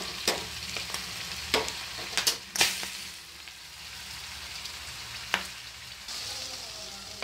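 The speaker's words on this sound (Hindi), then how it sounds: "ये प्याज हमारे ऑलमोस्ट ब्राउन हो चुके हैं। अब मैं दाल में इसको मिक्स कर दूंगी।" Browned onions for a tadka sizzle as they are stirred into dal, a steady frying hiss with several sharp spoon knocks and clatters scattered through, close and fairly loud with no talking.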